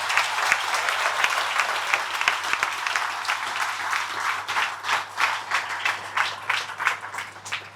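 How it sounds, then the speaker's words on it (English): A crowd at a company meeting applauds with dense, sustained clapping that thins toward the end into more distinct individual claps, fairly loud and close. "I just want to give a big round of applause to Hannah"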